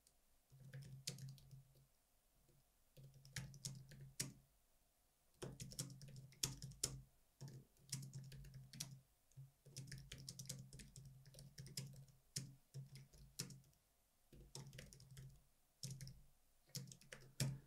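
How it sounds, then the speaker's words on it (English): Typing on a computer keyboard comes in bursts of quick, soft key clicks separated by short pauses, quiet and close, with no talking. "For the about, let's just type anything you like here."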